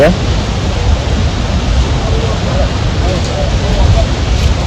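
Water pours from the opened gates of Dharoi dam, a loud, continuous broadband roar with no breaks, close and filling the whole scene.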